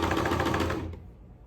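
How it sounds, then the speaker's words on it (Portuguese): A sewing machine stitches fabric forward and then in reverse to lock the seam, a rapid close mechanical chatter that runs for under a second and then stops. "vou fazer uns 3 passinhos para frente e uns 3 para trás, segurando aqui o meu retrocesso da máquina"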